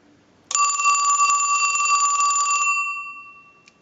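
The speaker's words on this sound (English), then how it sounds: "we want to send a ring cycle to the unit. So we'll start a ring cycle." An old Mickey Mouse model telephone bell rings in one sustained metallic trill for about two seconds, then fades out, loud and close with no voices.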